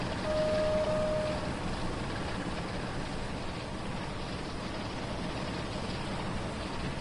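Class 375 electric train running between Faversham and St Pancras, a steady, even rumble and rushing hiss from inside the carriage that holds constant throughout with no talk.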